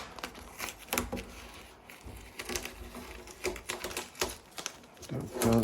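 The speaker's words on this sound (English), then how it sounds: "So I'm going to pull my tape." Masking tape peeled off a 5-foot wake surfboard under repair for a tail crack, giving a series of dry tearing and crackling rips that come in bursts close to the mic, with a brief voice near the end.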